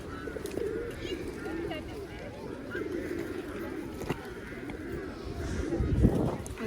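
Pigeons coo softly nearby amid outdoor bustle, with a voice speaking over them and a thump near the end.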